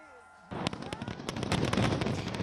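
New Year fireworks over the Chao Phraya River in Bangkok: after a quiet start, a rapid barrage of sharp bangs and crackles erupts and builds into a dense, loud, sustained volley.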